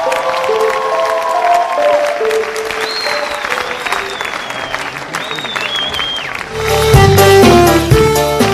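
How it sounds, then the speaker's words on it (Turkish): Audience clapping rises through a television entertainment programme, mixed with sliding whistle-like tones and then a loud burst of music near the end. "Alkışlar hepsi için"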